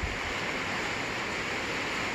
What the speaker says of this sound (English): Has a metal roof, you can hear the rain on it.